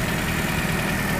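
A 1986 Toyota 4Runner engine idles with a small exhaust leak, giving a steady, close, rough rumble that holds evenly throughout.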